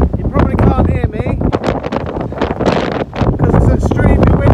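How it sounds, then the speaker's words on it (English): Strong wind on the summit of Yes Tor buffets the microphone in loud, roaring gusts while someone talks, his voice partly swamped by the blustery noise. "because it's extremely windy up here."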